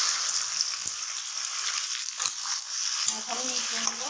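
Sizzling hiss of chopped okra being tipped into a pan of onions fried light red, a steady bright frying crackle throughout with a few soft clinks and stirring scrapes near the end.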